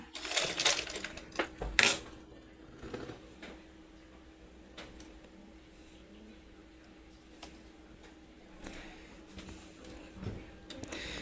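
Sewing machine being turned by hand while it is oiled, giving clicking, ratcheting mechanical knocks that are loudest and busiest at first, then sparse, lighter taps and rattles later, with no talking.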